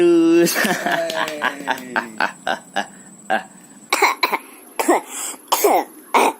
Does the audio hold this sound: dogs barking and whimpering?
no